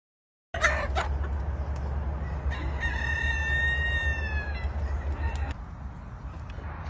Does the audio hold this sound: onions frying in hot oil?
no